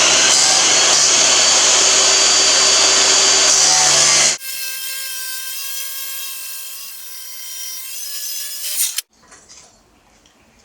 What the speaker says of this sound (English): I have a metal cutting blade on the chop saw